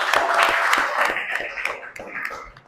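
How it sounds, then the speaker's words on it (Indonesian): Schoolchildren clap together in a classroom, a short burst of brisk, uneven applause that tapers off toward the end. "Tepuk tangan kembali buat kita semua"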